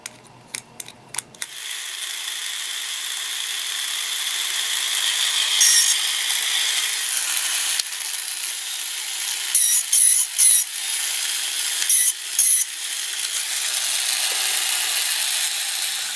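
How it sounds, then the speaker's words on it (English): A steady grinding, rasping metal sound of a file held against a part spinning in a drill, continuous with a few brief scraping bursts. "And then you take a file, you turn this thing on, go to town."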